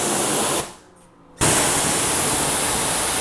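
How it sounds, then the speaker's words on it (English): A sprayer blasts water to rinse a tire brush while detailing a car, a harsh loud hiss that cuts out briefly for under a second before resuming full force. "I always spray off my brush"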